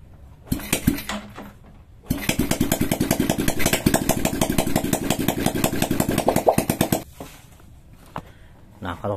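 Motorcycle engine with the exhaust removed starts and idles with a rapid, loud, rattling tak-tak beat for several seconds, then cuts out; someone speaks briefly before and after.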